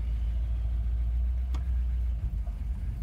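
A 1957 Ford sedan with a Thunderbird 312 V8 and Fordomatic transmission idling, a low, steady rumble close by with one brief click.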